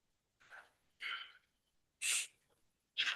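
Three or four sharp sneezes in a quiet board meeting room, each a short burst with pauses between, close and fairly loud.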